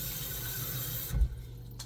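Water pours steadily from a tap with a constant rushing hiss for about a second, then cuts off abruptly, leaving near silence with a faint low hum and no talking.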